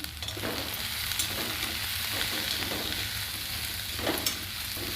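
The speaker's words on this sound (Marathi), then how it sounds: "आता आपण धोडके तेलामध्ये छान मऊ होईपर्यंत आपण परतवून घ्यायचे" Chopped ridge gourd sautéing in hot oil in a pan, a steady close sizzle with occasional scraping stirs from a spoon, no talking.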